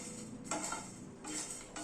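A spoon scrapes and clinks against a pan while spices are stirred during dry roasting over a low gas flame, giving a few soft, quiet rattling strokes.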